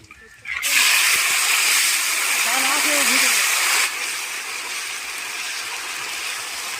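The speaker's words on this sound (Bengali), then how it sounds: "এখন কিন্তু কড়াইতে তেল দিয়েছে আর তেলে লঙ্কা আর তেজপাতা দিয়ে দিচ্ছে" Chili and bay leaves hit hot oil in a wok with a loud, steady sizzling hiss that swells suddenly and holds, easing slightly partway through, with faint voices under it.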